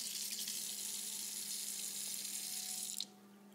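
Water from a tap rinsing a pH meter probe during water quality testing, a steady close hiss of running water that cuts off sharply near the end, with no voices.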